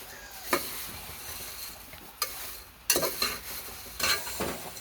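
Flattened rice (poha) fries in a pan, giving a soft steady sizzle that is broken by a few sharp scraping stirs of a utensil against the metal, heard up close.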